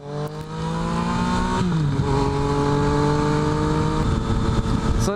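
A Yamaha FZ motorcycle held at full throttle, its engine roaring loud and close with a steady rising pitch, a brief gear shift dip near the middle, then climbing again, no voices over it.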